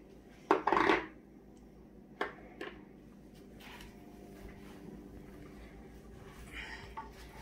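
Metal pressure cooker lid and separate 10-pound weight being handled for canning, a few sharp clanks and clinks with quieter rustling between.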